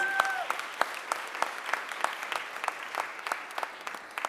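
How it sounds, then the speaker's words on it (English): Applause from an audience at a mayor's press conference, a steady wash of many hands clapping at moderate volume with sharper individual claps standing out, alone without talk. "you can give that a round of applause"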